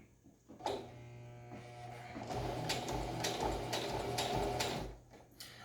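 Straight stitching on a homemade fabric mask: a sewing machine starts up and runs in a steady mechanical whir with rapid needle ticks for several seconds, then stops, close up and without talk.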